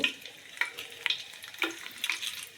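Whole spices (fennel, cardamom and bay leaf) fry in oil for chicken biryani, giving off a faint, steady sizzle with scattered sharp crackles and pops.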